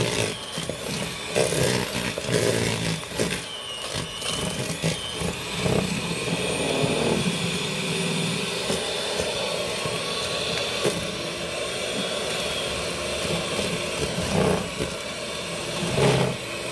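An electric mixer beats peach cobbler pound cake batter in a bowl with a continuous loud, close whirring drone and occasional knocks and scrapes against the bowl, running steadily throughout.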